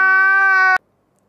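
A pet cat gives a single loud, clear meow lasting under a second, ending abruptly into silence.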